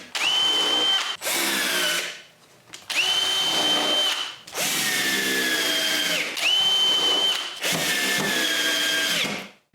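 Power drill driving screws into wooden cleats during soffit replacement at a cottage, four loud close bursts of whirring motor, each rising in pitch and stopping abruptly with brief pauses between, no speech.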